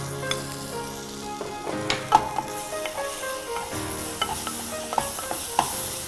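Ginger garlic paste sautéing with browned onions for chicken bhuna masala: a steady close sizzle with scattered spoon scrapes and taps against the pan, no voices.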